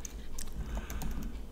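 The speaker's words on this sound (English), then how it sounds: "I'm doing it again, I'm typing." Typing on a computer keyboard while editing a Pascal program in an old structured editor: quick, soft key clicks in an irregular rhythm, close and quiet.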